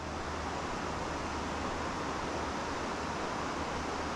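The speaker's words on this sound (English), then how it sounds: "water is definitely running strong with the morning's storms" A stream running strong after morning storms on a hiking trail, heard as a steady, dense broadband rush of flowing water that stays constant and fairly loud throughout, with no voices.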